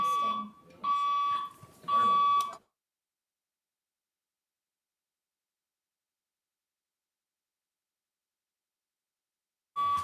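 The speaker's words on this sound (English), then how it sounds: "We have an alarm going off within the building" A building fire alarm sounds loud and close in repeated tonal bursts over the first few seconds, then cuts to silence before a final burst returns at the very end.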